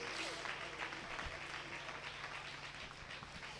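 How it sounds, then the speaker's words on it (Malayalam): A church congregation claps together in praise during a sermon, a dense, steady wash of hands that stays fairly faint and distant throughout. "ഒന്ന് നന്നായി കൈയടിച്ച് ശക്തിയോടെ ദൈവത്തിന് സ്തോത്രം"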